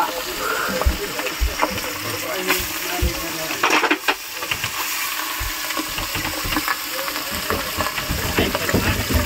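Dataal fish sizzling as it fries in turmeric and salt in a pan aboard a fishing boat off Satpati, Mumbai, giving a loud, steady, close crackle with bursts of spattering and faint voices in the background.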